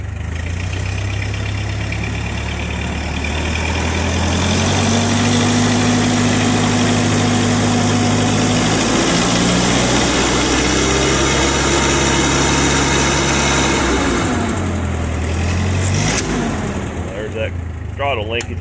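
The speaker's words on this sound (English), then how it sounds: "Got the generator set to hopefully put out just what we're using, nothing extra, don't want to overtax it." A generator engine runs at low, turned-down throttle, a loud close steady drone with low rumble and vibration that rises slightly midway and shifts near the end, with a person talking over it.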